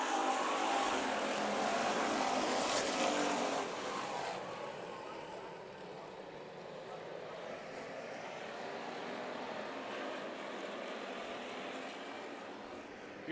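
Hobby stock race cars in a 32-lap feature race at Bakersfield Speedway, a steady loud roar of engines at a distance that holds throughout and eases slightly partway through, with no voices heard.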